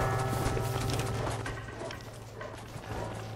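Horse hooves clip-clopping in Red Dead Redemption, a faint rhythmic patter of steps under a low background hum, with no talking.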